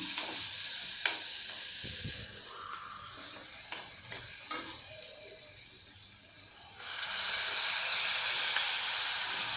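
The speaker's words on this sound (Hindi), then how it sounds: "इस प्याज को मैं अभी हिला लेती हूँ। प्याज के साथ साथ टमाटर भी डालती हूँ।" Onions and tomatoes fry in a pan for Khandeshi baingan bharta and are stirred, giving a steady close sizzle with scraping spoon strokes; the frying grows louder and brighter in the last few seconds.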